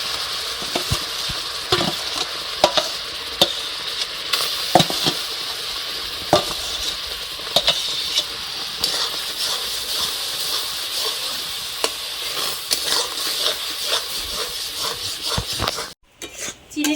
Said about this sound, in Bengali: ক্যারামেলটার সাথে ভালোভাবে আমটা মিশিয়ে নিয়েছি